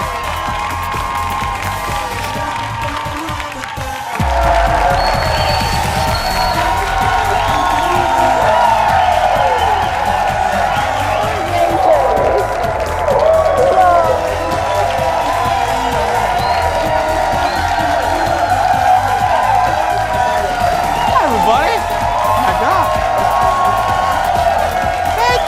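A show audience cheering, whooping and applauding loudly, with a sustained roar of clapping and shouts building after a quieter start and continuing throughout.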